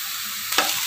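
Onion, ginger and garlic sauté in a pan with a steady close sizzle, broken midway by a brief scrape of stirring.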